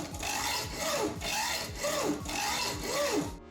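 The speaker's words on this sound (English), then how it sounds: "I make the cut using a metal saw and create the beveled edge with a mill file" A mill file rasps in four regular back-and-forth strokes, close by, as it bevels the cut edge of a small metal N scale locomotive frame.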